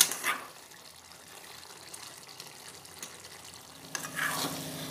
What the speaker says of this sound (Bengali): বাটি চচ্চড়িটা উনুনে বসিয়ে দিয়েছি।